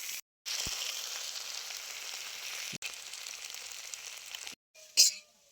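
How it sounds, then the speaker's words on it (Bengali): Potatoes fry in hot mustard oil in a kadai, a steady close sizzle broken by two brief silent gaps and a sharp clatter near the end. "এবারে প্রথমে আমি আলুটা ভেজে নেব।"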